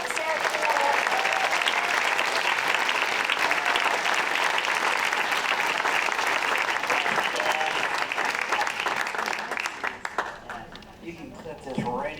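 A PechaKucha Night audience in Burlington applauds the evening's first presenter, a dense, sustained round of clapping that holds steady for about ten seconds, then thins out and fades.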